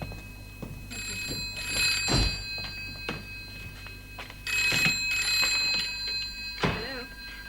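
A telephone bell ringing in two long metallic bursts, close and clear, with a few knocks and thuds between rings and no talk.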